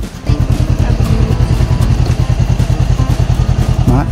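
Close and loud, a motorcycle engine runs on a rural trail near Urubici, Santa Catarina, with rapid even pulsing beats and a clattery edge throughout.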